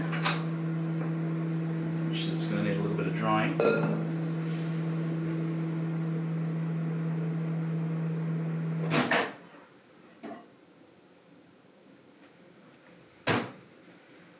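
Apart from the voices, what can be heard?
microwave oven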